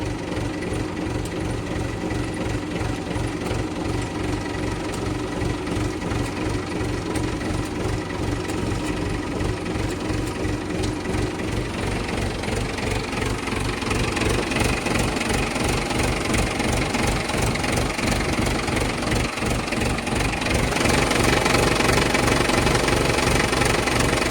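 A Mahindra 475 tractor engine runs steadily at idle with a dense, rhythmic diesel knock and low chugging pulses, close and continuous, growing slightly louder near the end, with no talk.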